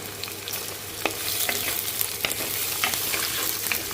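Carrots frying and sizzling in a pan for semiya upma, a steady close hiss with occasional stirring scrapes and light pops, no voices.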